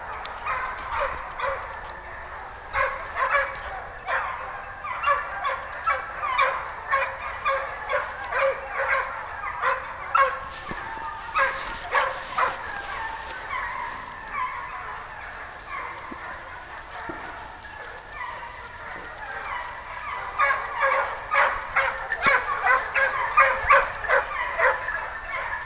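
A pack of hunting hounds in pursuit of wild boar gives tongue in rhythmic bursts of yelping, baying barks, moderately distant and continuing throughout, with a brief louder rustle midway and no voices.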